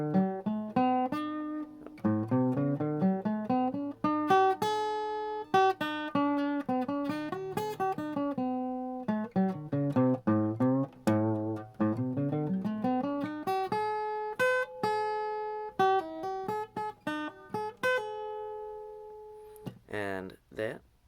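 A pentatonic scale derived from the major scale, played as a continuous run of notes without breaks on a bright, sustained instrument, notes flowing up and down in steady succession before a brief pause and a final few tones.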